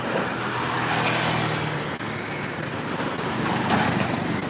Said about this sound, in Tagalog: Uy, laki ng truck.